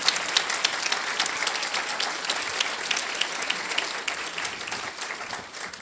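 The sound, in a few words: audience applause for the event support team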